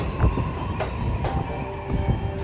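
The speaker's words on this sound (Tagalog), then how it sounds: "Ayan yung bullet train ng Japan." A Japanese bullet train rumbles past at a station, a steady low roar with faint rail clatter and a couple of brief hissing bursts, moderately loud throughout.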